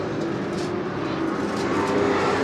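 Late model race cars at Seekonk Speedway, a steady dense engine roar from a pack racing close together, loud and continuous without a break, with no commentary over it.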